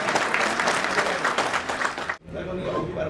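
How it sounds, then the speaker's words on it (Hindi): Crowd applause at a political gathering, loud dense clapping from many hands that cuts off abruptly after about two seconds, followed by a quieter stretch of room noise. "जोरदार तालियां एक बार।"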